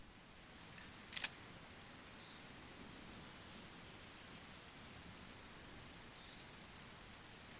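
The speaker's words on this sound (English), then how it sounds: "It's raining." Steady, quiet rainfall in the Wild West survival game Hauntsville, a soft continuous hiss with one brief click near the start.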